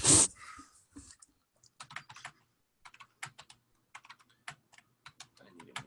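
Keys clatter in quick, irregular bursts on a computer keyboard whose space bar fails about half the time, the taps sharp and close with short pauses between runs, preceded by a brief louder noise at the start.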